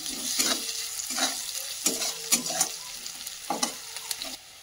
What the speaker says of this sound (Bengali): দিয়ে দেবো একটু কালো জিরে, একটু নাড়াচাড়া করে নিলাম।